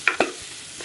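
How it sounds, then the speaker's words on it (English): Cooked baby jackfruit curry is stirred in a pot, giving two quick spoon scrapes and clacks up close over a soft background of simmering, brief and without talking. "Just going to mix it around a little bit."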